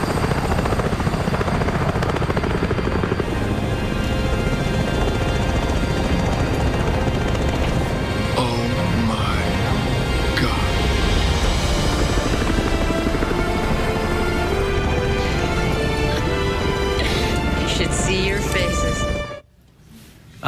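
A helicopter flies in a movie scene, its steady loud rotor and engine roar continuing for nearly twenty seconds before cutting off abruptly, with people talking over it.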